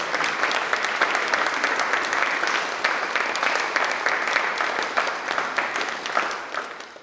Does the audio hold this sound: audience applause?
yes